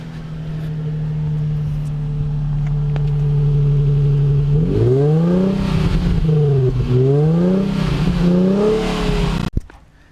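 Nissan 350Z engine idling steadily, then revving through several rising and falling sweeps, its exhaust note loud and close, ending with a sharp knock.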